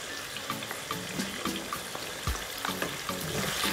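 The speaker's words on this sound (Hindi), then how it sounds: "कढ़ाई में कुकिंग ऑयल डालेंगे और चिकन डाल के फ्राई कर लेंगे।" Chicken fries in cooking oil in a wok, giving a steady, hissing sizzle with light stirring scrapes and one low thump, close and continuous with no talking.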